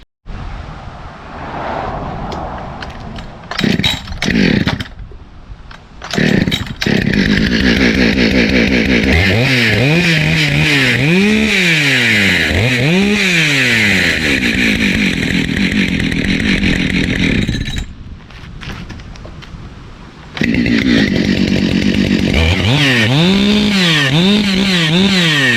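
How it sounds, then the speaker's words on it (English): Husqvarna 572XP chainsaw started and run alone, loud and close, with repeated throttle blips rising and falling in pitch between steady high-speed stretches and brief idle dips. "show you how loud the 572 is compared to 92"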